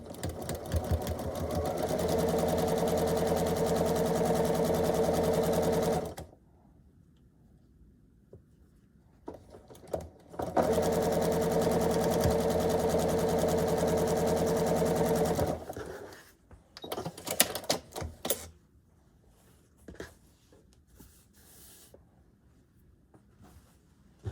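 A sewing machine stitches pieces of a quilt block in two long steady runs of rapid whirring close by, separated by a pause, then gives a few short bursts and clicks as the fabric is handled, with no talking.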